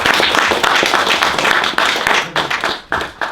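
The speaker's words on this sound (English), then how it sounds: "round of applause for you once again" An audience applauding a rapper in a music-production setting, a dense, loud burst of clapping that carries through and then thins into a few scattered claps near the end.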